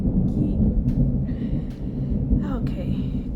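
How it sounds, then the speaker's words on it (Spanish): Steady rain in a Florida thunderstorm with a deep, continuous low rumble beneath it, fairly loud throughout, and brief bits of speech faintly audible over the downpour. "que está lloviendo aquí en Florida"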